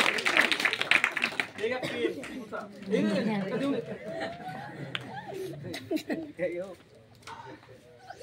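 School children at a Zilla Parishad school quiz in Darkhed clap and laugh after a correct answer, a burst of clapping that fades into lively chatter and giggles.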